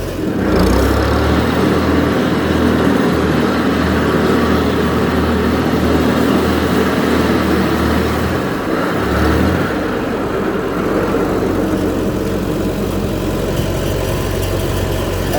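A tractor mower cutting wet grass on a farm runs with a loud, steady engine drone close by. Its low tone shifts partway through, then the engine keeps running evenly to the end.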